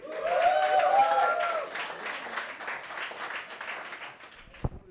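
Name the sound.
audience applause for comedian Shashwat Maheshwari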